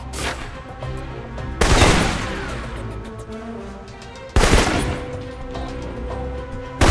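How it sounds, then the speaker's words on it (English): Assault rifle fire in the Alpha Protocol video game, two loud, sharp shots or short bursts a few seconds apart, each trailing into a long reverberant decay over a low in-game background. "For long-range encounters, the assault rifle's the key."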